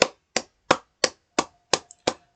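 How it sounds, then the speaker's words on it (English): A single person claps hands seven times at an even, slightly slow pace, each clap close, sharp and isolated against silence. "First off, let me just give them a round of applause."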